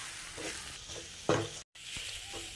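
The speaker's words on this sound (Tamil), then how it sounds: "நல்லா மிக்ஸ் பண்ணி விட்டுடலாம்." Tomato, grated coconut and coriander leaves for pirandai chutney are stirred in a pan, giving soft scraping and faint sizzling, one sharper knock, then a brief dropout, quiet and close.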